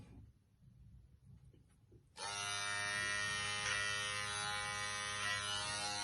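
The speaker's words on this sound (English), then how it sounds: "You can either grab your clipper and just run a number 2 guard on your eyebrows" Electric hair clipper fitted with a number 2 guard, used for trimming eyebrows at home, switches on after two seconds of quiet and then hums with a loud, steady close-up buzz.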